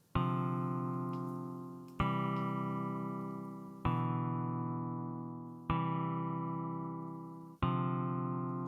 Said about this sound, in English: now I'm going to add a guitar loop and switch to the guitar preset